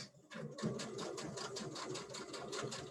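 A Baby Lock sewing machine with digital dual feed stitches a line of channel quilting, its needle running in a steady, even, rapid rhythm throughout, close and moderately quiet.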